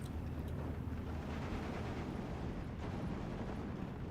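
Off-map artillery barrage striking in Steel Division 2, a steady, dense rumble of distant heavy impacts blending into a continuous roar with no talk.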